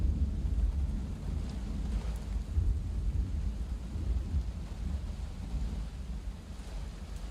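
A heavy thunderstorm rumbles with a dense low roar of pouring rain and distant thunder, steady and unbroken throughout, with no voices.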